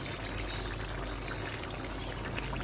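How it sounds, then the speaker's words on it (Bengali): Fresh cream is poured into simmering chicken curry, making a soft, continuous liquid pour over a steady background of cooking noise. "দেবো আমি ফ্রেশ ক্রিম"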